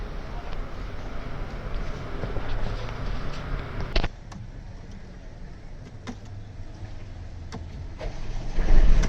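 A Mercedes-Benz engine, just repaired for a rattle, turns over and settles: a loud cranking rumble that drops sharply at about four seconds into a quieter idle, with a few clicks and a swell of revving near the end.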